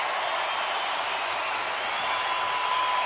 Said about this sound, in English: they are standing applauding Joe Nathan and the Rangers